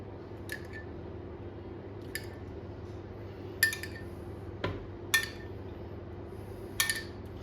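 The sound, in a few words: spoon spreading tomato sauce on pizza dough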